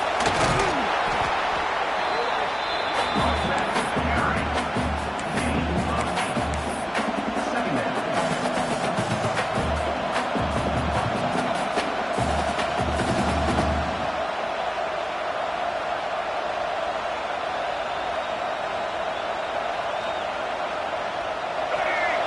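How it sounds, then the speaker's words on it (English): A football stadium crowd roars steadily during an Indiana Hoosiers game as their defense plays in the red zone, a dense wash of cheering that runs throughout under a commentator's voice and fades somewhat near the end. "And the crowd coming to life here, trying to help this defense down in the red zone."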